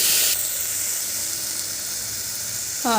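Tomatoes added to frying dal, a loud steady hiss of sizzling that holds throughout, with a brief clatter at the start and end and no talking.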